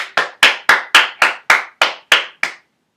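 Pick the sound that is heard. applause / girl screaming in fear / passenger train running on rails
applause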